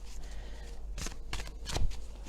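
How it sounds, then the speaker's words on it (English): Oracle cards are shuffled by hand in three quick, soft riffles over a faint background hum. "Let's give them a little shuffle-a-roo-rah"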